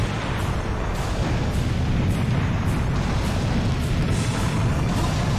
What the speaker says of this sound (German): Wir müssen sie eben mit der Kanonenkugel ziemlich genau treffen.